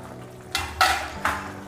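Fried dry fruits tipped into melted jaggery for a harira and stirred in a pan, heard as three short, close clattering scrapes against a quiet background.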